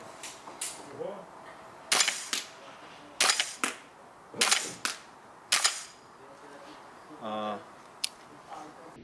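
An airsoft gun with a heavy, oversized bolt fires a string of sharp, loud cracks at irregular intervals, close by, with brief pauses between shots.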